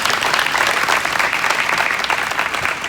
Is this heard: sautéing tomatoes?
no